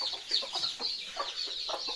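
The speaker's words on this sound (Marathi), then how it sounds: "आपली कोंबडी आहे जिने आपल्या पंखाखाली पिल्लं घेतलेली आहेत" A hen with chicks gathered under her wing clucks softly and continuously on a poultry farm, close by, with high thin chick peeps mixed in.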